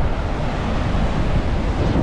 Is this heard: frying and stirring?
no